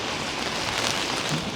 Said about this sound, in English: as the rain batters me from behind, I've got an umbrella.